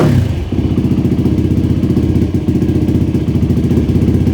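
A Yamaha YFZ450 ATV engine running just after its first start, a loud close rapid thumping single-cylinder chug, slightly uneven, with brief dips as the throttle is blipped, on a hot day.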